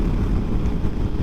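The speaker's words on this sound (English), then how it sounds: "I still got wind smacking my head around" Steady, heavy wind buffeting roars into the microphone while riding a 2023 Yamaha MT-10 naked motorcycle on a windy day, a constant low rumble with no talking.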